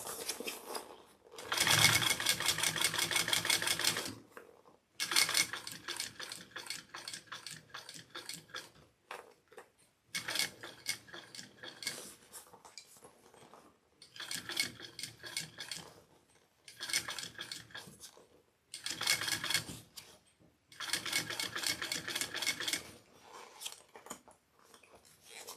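Sewing machine stitching a backpack made from Moose Fiber Co material at a short stitch length, running in several separate bursts of rapid, even ticking with brief pauses between runs.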